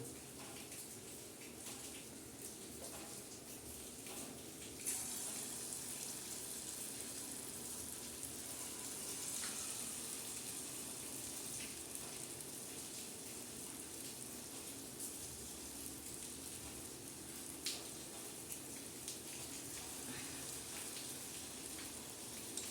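Sweet gulgule made from wheat flour, jaggery, fennel and ghee are dropped into hot oil, and a faint, steady crackling sizzle runs without a break, like light rain.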